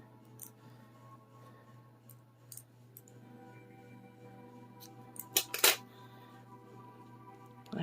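Scissors snip crochet yarn for a Frozen-inspired tiara ear saver, a short pair of crisp close cuts standing out over a steady low background hum.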